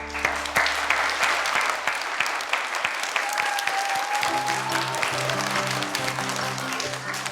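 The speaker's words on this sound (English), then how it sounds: "Give yourselves a round of applause." Children clap together in sustained applause at a school Remembrance assembly, a steady dense patter of small hands filling the room from start to finish.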